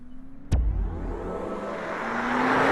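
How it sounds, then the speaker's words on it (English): Start-up sound of a 2021 BMW iX3 electric SUV, composed by Hans Zimmer: a sharp click at the button press, then a swelling electronic tone that builds smoothly and steadily in loudness. "Hans Zimmer, we created the BMW iconic sounds for our electric vehicles. Just press the button and you will be surrounded by the full emotional thrill of electromobility."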